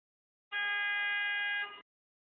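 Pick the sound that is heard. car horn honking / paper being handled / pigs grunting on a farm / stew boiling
car horn honking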